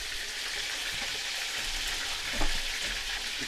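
Fish sizzles steadily in hot oil in a pan aboard a fishing boat at sea, a continuous close crackle and spatter heard alone with a brief louder flare near the end.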